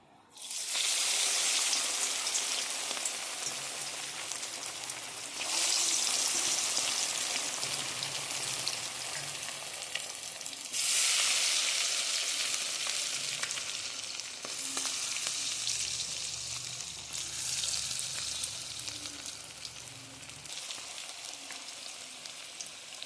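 Chicken coated in Kentucky-style masala, salt and red chilli fries in hot oil with a loud, rain-like hiss that surges in several bursts as pieces go in, then settles to a steady, continuous sizzle.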